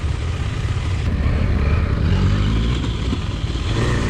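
A KTM Adventure motorcycle brakes on an off-road training course, its medium engine droning steadily and loud throughout with some clatter, no voices.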